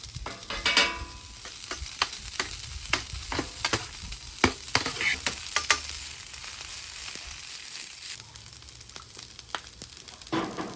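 Rice frying in butter and oil for chicken fried rice, a steady close sizzle crackling with sharp spatula scrapes and taps scattered throughout, no voices.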